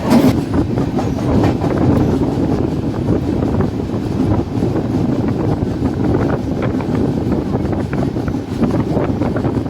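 Kerala Express sleeper-class passenger train running on rails, a loud steady rumble with rhythmic clickety-clack and buffeting wind noise filling the whole stretch, heard from inside the moving coach.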